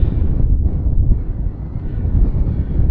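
Cold winter wind buffets the microphone on a snowy fell near the Helvellyn range. A loud, continuous low roar rises and falls in gusts, with no speech.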